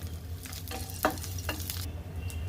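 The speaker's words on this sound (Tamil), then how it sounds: "கடுகு சேர்த்துக்கிறேன். கடுகு பொரிஞ்சதுக்கப்புறம் காய்ந்த மிளகாய், கருவேப்பிலை" Mustard seeds spluttering with dried red chillies and curry leaves frying in hot oil for black urad dal powder rice, a close continuous sizzle with a few sharp pops and stirring scrapes.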